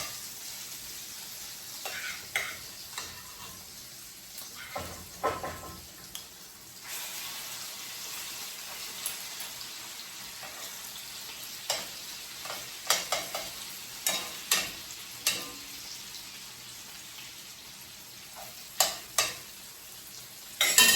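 Soft, constant sizzle of salmon patties frying in a pan, punctuated by scattered clicks and scrapes of a spatula, close by and without talk.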